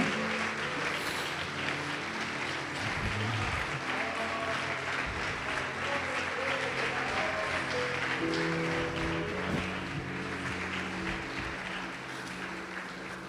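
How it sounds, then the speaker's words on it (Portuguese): Congregation applause during a church service, a long, fairly faint stretch of steady clapping with a low musical drone underneath, easing slightly toward the end. "Pode aplaudir o Senhor Jesus e glorificar o seu nome."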